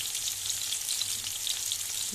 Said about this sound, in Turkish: Zeytinyağı koydu sarımsak ufak ufak doğramış koydum